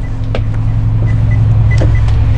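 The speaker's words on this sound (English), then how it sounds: "we have your typical air-operated bifold entry door" Air-operated bifold entry door on a 2006 Bluebird All American 78-passenger school bus, giving a couple of brief mechanical clunks and hisses over a steady, loud idling engine hum.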